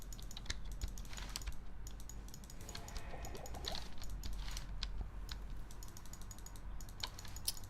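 Rapid mouse and keyboard clicking while playing Diablo 2: Resurrected, with dense, irregular key taps and clicks running steadily throughout and heard close and alone.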